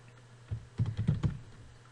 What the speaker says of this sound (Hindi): अब इसके बाद फिर कीबोर्ड से टैब प्रेस करें